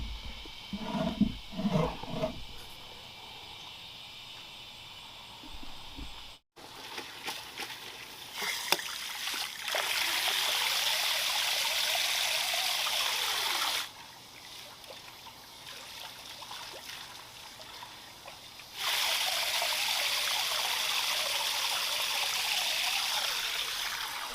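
A garden fountain plugged back into its pump starts running, with a steady trickling and splashing of water that comes in long stretches, drops away for a few seconds, then resumes after some earlier handling noises.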